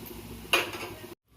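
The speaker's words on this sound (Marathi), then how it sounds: "आता आपण असंच झाकण मारणार आहोत बारीक गॅस करून" A metal lid clanks down onto a cooking pan over a low flame for a leafy pumpkin-leaf vegetable dish, making one close, bright metallic clatter that rings briefly and then cuts to silence.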